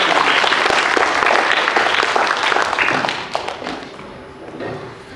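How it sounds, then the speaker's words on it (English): Students and staff at a Year 6 school assembly give a loud round of applause that fills a hall, then thins out and fades over the last couple of seconds. "Let's give them a round of applause."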